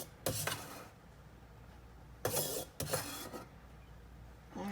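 Homemade tomato sauce for lasagna stirred in a pot, a few scraping, rasping strokes of a utensil against the pot with quieter gaps between them.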